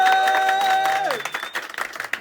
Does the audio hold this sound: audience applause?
yes